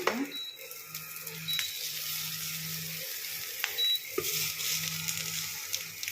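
Mustard seeds, asafoetida, cumin, chillies and curry leaves sizzle in hot oil for a palak sambar tempering, a close, steady frying hiss with a few stirring scrapes and metallic clinks of the pan.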